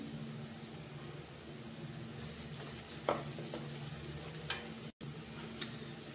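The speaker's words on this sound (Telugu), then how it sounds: "చూసారా, ఇలా మంచిగా ఫ్రై అవ్వాలని." Sliced bitter gourds frying in a pan, a faint steady sizzle with a few soft scrape clicks from occasional stirring, quiet and close.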